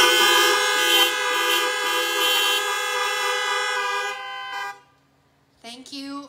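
Car horns blare together in a church parking lot service celebrating July 4, a loud sustained chorus of honking that cuts off, followed by a shorter final toot.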